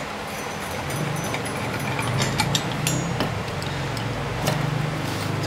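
Metallic clicks and ratcheting clatter come from a homemade grinder tool built from recycled scrap metal as its attachment is taken off, irregular close-up ticks and rattles over a low steady hum.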